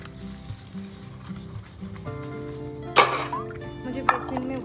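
Cooking utensils are washed and scrubbed by hand outdoors in a Jharkhand village during the rainy season, with continuous gritty scrubbing and two sharp metallic clanks of pots, close by.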